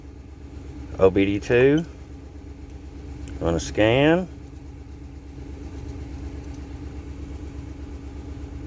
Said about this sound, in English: Got the truck running.